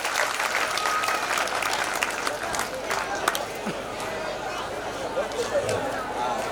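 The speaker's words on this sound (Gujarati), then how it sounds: "તાળીઓથી અભિવાદન કરીએ." Wedding guests applaud steadily throughout, a dense, even wash of clapping from a sizeable crowd with faint chatter underneath.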